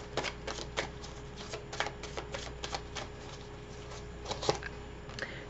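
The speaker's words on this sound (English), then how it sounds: "So let's pull a few cards on that." Tarot cards are shuffled and pulled, giving a quiet run of crisp flicks and taps at an irregular pace, close and alone.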